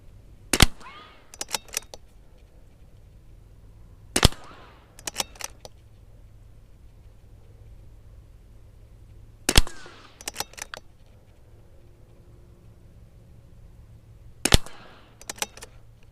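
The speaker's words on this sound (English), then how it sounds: "Let me get some more ammo and shoot another 5 more shots." Sharp gunshots from a CZ 457 rifle, nearby and loud, fired singly with long pauses between them, each shot followed by quieter clicks and clatter of the bolt being worked.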